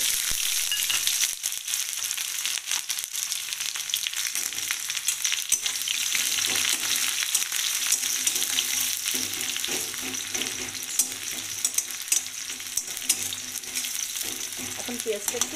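Chopped onion frying in hot oil with whole cardamom, cloves and a bay leaf, the base of a spicy boal fish curry; a steady close sizzle with occasional scrapes and stirring clatters, no talking.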